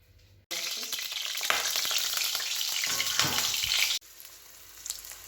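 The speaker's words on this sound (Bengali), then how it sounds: "এবার পটলগুলো হালকা নেড়ে নেওয়া হচ্ছে খুব বেশি ভাজবো না" Stuffed pointed gourds (potol), sealed with a flour paste, are lightly stirred in hot oil, giving a loud, steady close-up sizzle that begins abruptly and cuts off just as suddenly.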